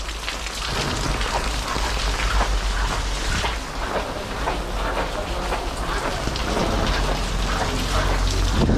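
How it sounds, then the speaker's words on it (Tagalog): Heavy rain pours steadily and loudly, a dense continuous roar of drops hitting surfaces with no break. "basta dire-diretso yung ulan"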